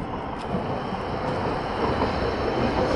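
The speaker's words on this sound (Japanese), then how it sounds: "チンチン電車が通過いたしました。" A streetcar rumbles past nearby near Horohira Bridge and Nakajima Park in Sapporo, a steady rolling rail noise with faint wheel squeal, continuous over a few seconds.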